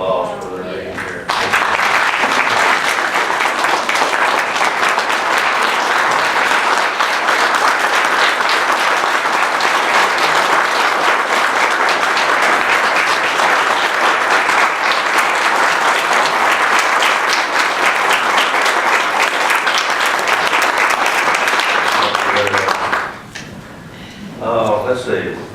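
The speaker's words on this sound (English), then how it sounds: "We need to give all of our veterans a round of applause for their being here." At an annual meeting program, a large audience gives veterans a loud, sustained round of applause lasting over twenty seconds before it fades out, with voices mixed in.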